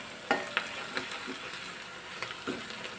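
Onions and garlic frying in a pan for Kerala-style jackfruit mezhukkupuratti, a steady soft sizzle with a few sharp scraping stirs of a spoon against the pan; no one speaks.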